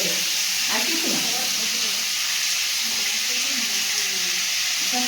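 Chopped onion fries in a little oil with tempering spices, a steady, loud broadband hiss with a few faint scrapes early on.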